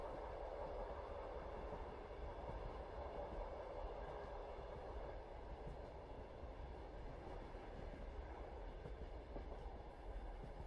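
Steady, soft rumble and rhythmic rolling of a passenger train carriage on a winter night journey, continuous and even throughout with no voices.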